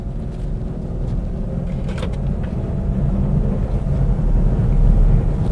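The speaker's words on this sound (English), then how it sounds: "This vehicle drives well." A Mercedes GL450 SUV, just repaired after its air suspension failed and made it bounce, drives along with a steady low engine and road rumble that swells gradually, alone without talk.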